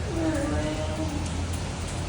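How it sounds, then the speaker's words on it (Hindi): Steady morning rain falls as a continuous broadband hiss, with a voice speaking briefly over it. "बारिश हो रही है अभी तक, आप मौसम देख सकते हैं"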